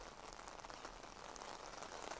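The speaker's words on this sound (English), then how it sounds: "right now, James, we're just getting a line of rain that's just started to come back into here to Akron." Steady rain falls in Akron during a line of severe November weather, a soft continuous hiss without distinct drops or voices over the short stretch.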